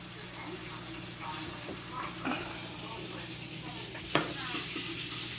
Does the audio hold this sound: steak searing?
yes